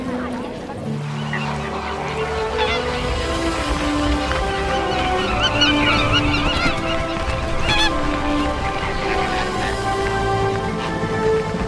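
Crowds of birds on mudflats and marshes in Portugal keep up a constant chorus of honking, goose-like calls and chatter, many voices overlapping near and far without pause.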